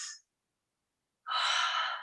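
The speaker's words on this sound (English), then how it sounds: "Long, deep breaths." Deep breathing during a yoga flow: a short exhale trails off, then after about a second of silence comes a long, smooth, breathy inhale or exhale, close and soft, with no talking.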